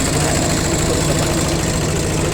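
A modified RT90 farm tractor with a single-cylinder engine runs steadily nearby, a loud, continuous chugging drone with a slightly knocking texture and no talk over it.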